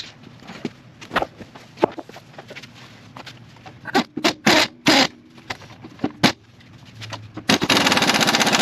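Bottom strut bolts being undone on a budget LS Camaro's front suspension: a rapid, irregular run of loud, close impact-wrench hammering bursts, ending in a sustained steady buzzing whir.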